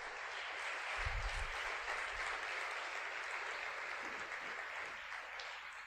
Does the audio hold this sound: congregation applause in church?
yes